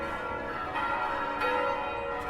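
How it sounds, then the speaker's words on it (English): Bells in the trucking game American Truck Simulator ring in a loud, sustained wash of clanging overtones near a cargo depot, with a couple of fresh strikes swelling through the drone. "Some very noisy bells, though."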